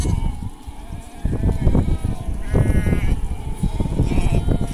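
A flock of sheep bleating close by on open grazing land in Azerbaijan, several overlapping calls repeating against a loud, busy background of shuffling and movement.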